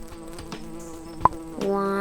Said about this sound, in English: 5 busy bees are buzzing around and they all land on the flower.